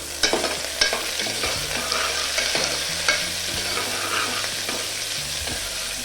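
Cloves, black pepper and cardamom frying in a pan for chicken haleem, a bright continuous sizzle with sharp stirring clatters and scrapes near the start, under a low steady hum, no voices.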